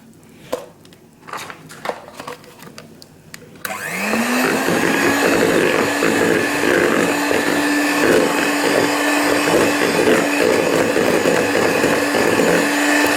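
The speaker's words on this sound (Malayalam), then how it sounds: "മിക്സർ എടുത്തൊന്ന് മിക്സ് ചെയ്തതിന് ശേഷം ബാക്കി ചെയ്താൽ മതി." An electric mixer grinder whirs into life after a few soft clicks and handling knocks, then runs loudly and steadily while mixing dalgona cake batter, a constant motor drone without speech.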